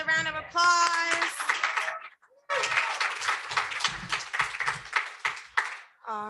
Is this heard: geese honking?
no